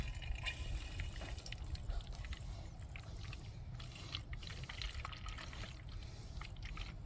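Brake fluid or a similar fluid drains from a bleed hose into a catch bottle, with a continuous pouring, gurgling trickle over low mechanical rumble and scattered small clicks and knocks, no voices.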